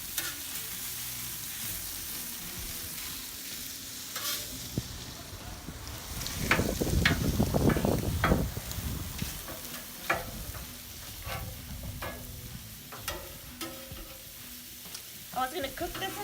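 Italian sausage seasoned with garlic and black pepper sizzles on an outdoor grill, a steady crackling hiss that swells louder midway with sharp pops and clicks scattered throughout.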